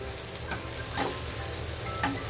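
Chopped garlic and cumin seeds fry in oil in a pan over a medium flame, giving a steady close sizzle broken by a few louder scraping stirs of a spoon.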